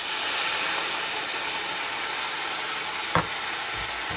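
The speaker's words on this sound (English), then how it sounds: "now I'm gonna add a little ranch seasoning and some beef broth" Fajita pasta simmers in a pan after ranch seasoning and beef broth are added, giving a steady, even sizzle and bubbling that continues throughout, with one brief clunk near the end.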